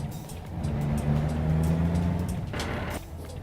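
A Volvo VNL truck in American Truck Simulator runs with a steady low engine drone that swells and shifts, with a brief harsher burst of grinding gears near the end, close and alone.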